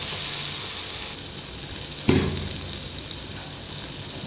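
Ground tomato and onion paste frying in hot oil: a steady hiss that eases after about a second, then a sharp, louder sizzle bursts up midway and slowly settles into a continuous crackle.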